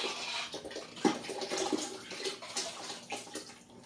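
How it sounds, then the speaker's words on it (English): Pottery glaze is poured over a ceramic piece, a soft splashing trickle with a brief louder spill and small drips, close and fairly quiet, with no talking. "pouring down. I've got a little spill, a little drip there"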